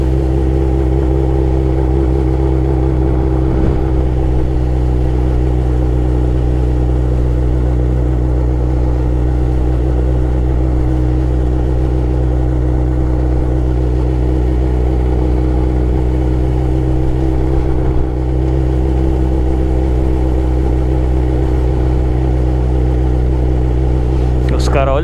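Suzuki SRAD 1000 sport motorcycle carrying a rider and passenger, its engine droning steadily and loud throughout with constant low rumble and wind noise, voices talking over it.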